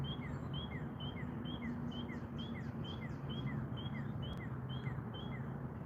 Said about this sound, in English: Can you guys hear that bird?